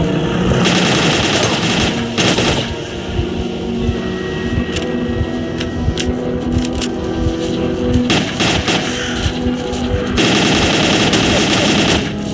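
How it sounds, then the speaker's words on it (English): Sustained gunfire fills a STALKER: Call of Pripyat firefight, with rapid machine-gun bursts and single shots overlapping in a dense, loud, continuous rattle that swells toward the end, alongside mechanical whirring and no talk. "Check your weapons and fire at will."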